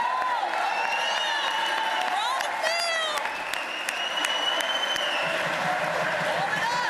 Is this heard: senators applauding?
yes